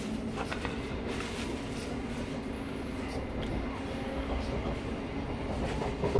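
A train runs near Horsham with a steady, close rumble of wheels and carriage noise throughout, rising slightly at the end.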